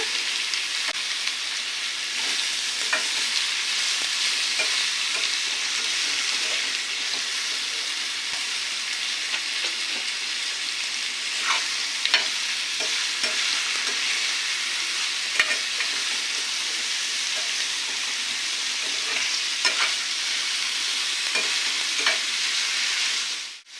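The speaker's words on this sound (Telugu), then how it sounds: "ఇప్పుడు మొత్తం దీంట్లో వేసుకొని మనం కలుపుకుందాము" Ingredients stirred and fried together in a pan over a high flame, giving a loud, steady sizzle throughout with frequent scraping clicks from the spoon and no talking.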